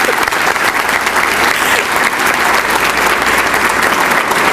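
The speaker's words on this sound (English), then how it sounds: "we owe our mayor another fabulous round of applause" A large luncheon audience at a city's State of the City event claps loudly for the mayor, a thick continuous roar of hands filling the whole stretch without a break.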